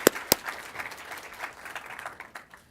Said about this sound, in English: So how about a round of applause for our speakers?